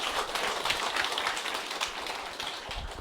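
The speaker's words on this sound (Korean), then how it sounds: "항상 고맙다고 큰 박수 한 번 더 부탁드립니다" Audience applause after a talk at a seminar morning assembly, a dense, steady wash of clapping from a roomful of people lasting the full three seconds at moderate loudness.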